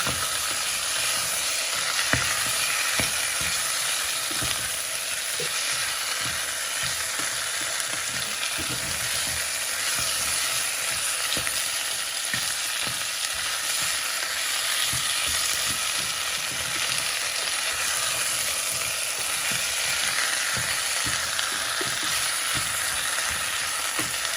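Chicken feet browning in a pot give a steady, close sizzle and hiss throughout, with faint scattered clicks and scrapes of stirring and no voices.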